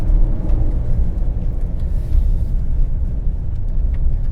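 Steady, loud low rumble of a 2018 Chevrolet Silverado 1500 pickup driving over a rough gravel road, with continuous tire crunch and road noise throughout and no talking.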